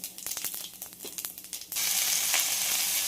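Mustard seeds, urad dal and cumin sizzle in a kadai of oil. Light crackles and clinks come first, then a sudden, loud, continuous hiss once the seeds hit the hot oil, close by.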